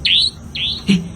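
Bird calls in the wild, three quick chirps: two high, sweeping whistled notes a half second apart, then a shorter call over a faint low hum, fairly close and clear with no talking.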